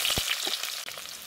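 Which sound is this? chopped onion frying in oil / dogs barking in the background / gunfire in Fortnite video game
chopped onion frying in oil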